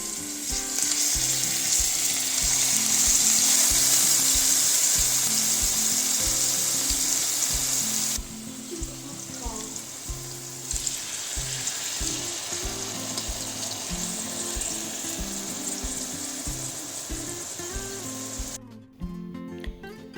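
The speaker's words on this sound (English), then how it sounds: "Now we'll add the chicken fillet in it and let it grill until it is nicely golden brown at both its sides." Chicken fillet frying in a pan over low to medium heat, a loud, steady sizzle that fills the whole stretch, easing slightly partway through before cutting off near the end.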